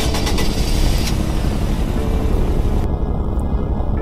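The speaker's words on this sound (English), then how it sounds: "Now let's hear the startup and the revs here." A four-cylinder sports car engine in the Greenville video game fires up and settles into a steady, loud drone that fills the whole stretch, with no talking over it.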